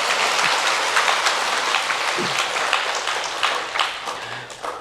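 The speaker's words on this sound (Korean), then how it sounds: "박수 치는가요?" An audience claps together in a room, a steady, dense patter of many hands at moderate volume that thins slightly toward the end, with a few faint voices beneath.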